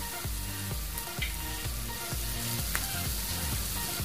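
Onions sautéing in oil in a pan for sardine sambal, a continuous close crackling sizzle with rhythmic stirring scrapes throughout.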